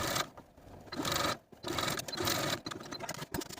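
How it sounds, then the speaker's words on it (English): A sewing machine stitches a narrow seam on a velvet dress facing in short bursts that stop and start, the motor fairly quiet and close, with brief pauses between runs. "sew the seam allowance to the facing all the way around with a 1/8 inch seam allowance"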